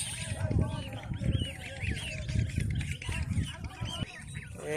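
Domestic geese honk in repeated nasal calls at close range, with goslings nearby, and a person talks over and between the calls.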